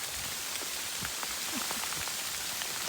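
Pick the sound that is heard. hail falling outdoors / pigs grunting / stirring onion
hail falling outdoors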